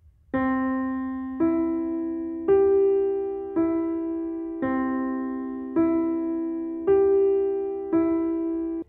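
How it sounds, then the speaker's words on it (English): Eight piano chord notes played one at a time going up and down with the sustain pedal held, each struck note ringing on and overlapping the last at an even, unhurried pace, clear and alone. "And when you now press the pedal, these notes sound like this."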